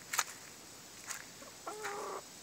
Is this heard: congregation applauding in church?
no